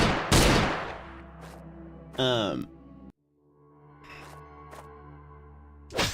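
A heavy gunshot cracks near the start of an indie horror game scene, followed by a warbling electronic tone and sparse sharp hits over a low drone, with someone talking briefly.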